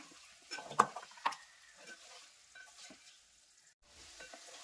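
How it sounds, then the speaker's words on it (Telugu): Ginger garlic paste sizzles faintly in a pan as a utensil stirs it, with a few sharp scraping clinks against the metal over a low, soft frying hiss, for mutton curry. "అల్లం వెల్లుల్లి పేస్ట్ వేసుకున్నాక పచ్చి వాసన పోయే వరకు ఫ్రై చేసుకోవాలి కలుపుతూ ఒక రెండు నిమిషాలు ఫ్రై చేసుకోవాలండి"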